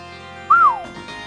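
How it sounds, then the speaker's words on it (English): A single clear whistled note from a person playing a dungeon-crawler game, rising then gliding downward over about half a second, loud and alone against a quiet low hum. "How did a whistle sound?"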